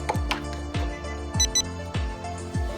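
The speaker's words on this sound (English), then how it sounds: "You should hear 2 short beeps." A PaxLock Pro door lock gives electronic beeps after four AA batteries are installed, a few short repeated tones spaced evenly, close and clear with no talking.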